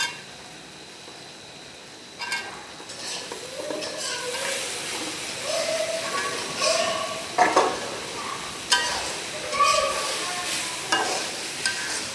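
A spoon stirs eggplant through a curry of chicken feet and liver in a pan, producing repeated scraping and clinking strokes over a soft sizzle, with a brief voice in the background.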